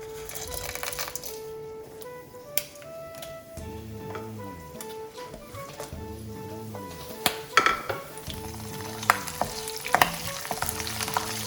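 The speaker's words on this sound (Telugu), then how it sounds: "సో ఫస్ట్ మనం తాలింపు వేసుకోవాలి." Tempering spices fry in hot oil for pulihora, a soft crackling sizzle with occasional sharp pops and clinks of a metal spoon against the pan, under steady background music.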